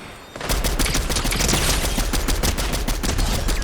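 Rapid gunfire in a Fortnite match, loud and dense automatic bursts that start abruptly and continue without a break, close and overwhelming, with no talking over it.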